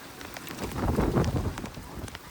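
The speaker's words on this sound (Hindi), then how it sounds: "गाइस देखो बारिश भी शुरू हो चुकी है" Soft patter of rain falling on surfaces, scattered drops tapping with a low rumbling wash underneath, moderately quiet.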